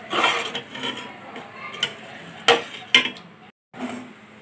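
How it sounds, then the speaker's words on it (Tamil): A pot of ragi porridge being stirred on the stove, with a few sharp clinks of a spoon against the pot over soft scraping, close by and moderately quiet, with no talking. "இதை கைவிடாம கொஞ்சம் கலரிட்டு இருங்க."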